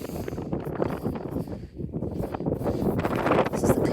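Gusty wind buffets outdoors at Sycamore Gap by Steel Rigs on a windy day, loud and uneven, rising and falling with a lull midway.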